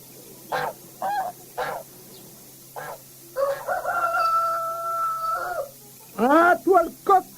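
A farmyard rooster lets out a long, drawn-out crow in the middle, framed by several short, sharp fowl calls before and after, fairly close and clear over a quiet background.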